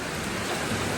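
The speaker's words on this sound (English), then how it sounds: "the storm caught me about a mile from the shelter" A heavy rainstorm on the Appalachian Trail pours down in a dense, loud wash of falling water, steady across the whole brief moment with no voices.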